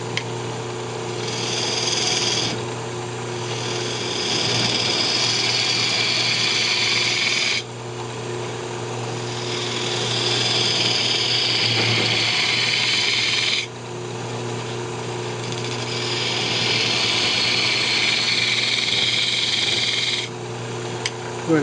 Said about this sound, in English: Then we'll go ahead and come in and hollow it out. I'm just using a bowl gouge here.